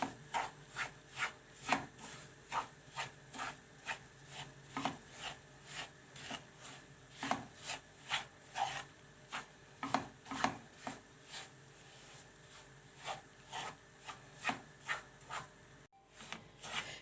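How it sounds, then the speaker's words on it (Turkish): A spoon scrapes steadily in a pan with quiet, rhythmic strokes, roughly two per second, as dry semolina is stirred and roasted over low heat. "Kısık ayarda kavuruyoruz irmiğimizi."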